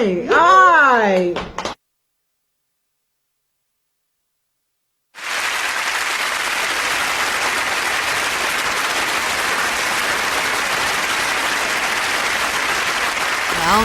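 An audience bursts into sustained clapping at a live radio show, a dense, even wash of applause lasting several seconds after a stretch of silence.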